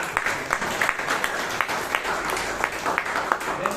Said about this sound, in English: Round of applause to our VP membership